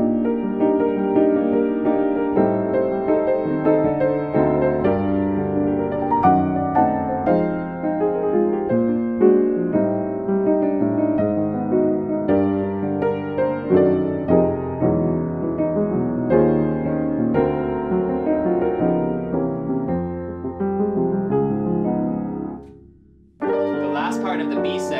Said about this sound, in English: I'm gonna start with the flat five and move down chromatically until I get to C